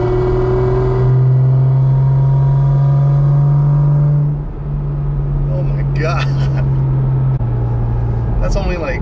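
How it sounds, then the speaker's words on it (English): A Porsche GT4 RS's deep, steady engine drone at around 2800 RPM with a sustained intake hum, loud and close, shifting slightly in pitch midway, with faint voices and rustling late on. "listen to this intake"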